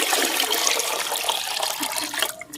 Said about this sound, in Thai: เทลงในน้ำที่เราเตรียมไว้เลยค่ะ